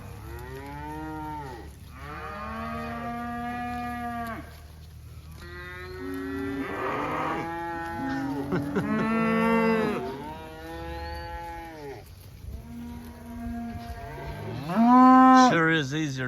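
Cattle moo repeatedly during a cattle drive with a new calf, long drawn-out calls overlapping from several animals, near and loud, with a louder bellow near the end and someone speaking briefly.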